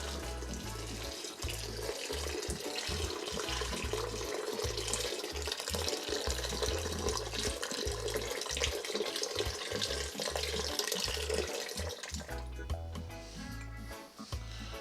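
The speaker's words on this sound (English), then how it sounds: "When I add the cold water, you don't wanna use warm water, you wanna use cold water." Cold tap water pours steadily into a pot of boiling gungo peas with pimento berries for Jamaican peas and rice, a continuous close rushing splash that runs unbroken for about twelve seconds before easing off.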